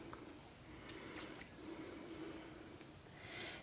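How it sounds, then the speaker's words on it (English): Scissors snip through knitting yarn to cut a tail from the working strand, a couple of soft, brief clicks close by in a quiet room with no talking. "leave a generous tail here and cut that from my working yarn"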